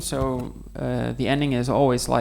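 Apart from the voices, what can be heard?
No distinct noise like a dog, phone or traffic.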